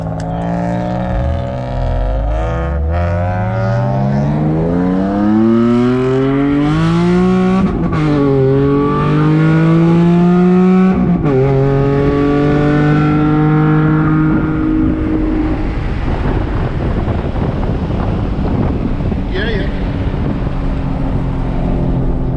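An Infiniti G37 engine revs hard and loud through successive gears, pitch climbing steadily then dropping at each shift, before settling into a rougher steady cruising rumble with road noise, no speech heard.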